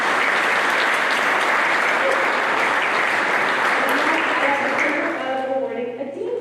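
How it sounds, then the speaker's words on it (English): Warm applause from an audience at a middle school celebration, steady clapping for about five seconds that fades out as a voice begins speaking over the tail. "round of applause, please."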